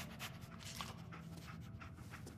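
Dogmeat, the dog companion in Fallout 4, pants softly in quick, quiet breaths over low game ambience, faint and close, with a small whimper.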